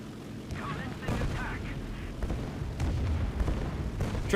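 Anti-aircraft artillery fire in the War Thunder flight game, a continuous rumble of booming flak bursts around a plane with a steady engine drone, loud and dense throughout, with someone talking over it.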